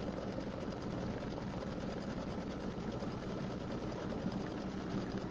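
An embroidery machine stitches a fabric table topper with a steady, fast mechanical whir that holds without a break throughout, faint and close by.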